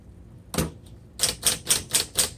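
Typing on a 1959 Smith Corona Electra 12 electric typewriter: one sharp strike, a brief pause, then a steady series of crisp, evenly spaced key clacks, close and clear with no talking.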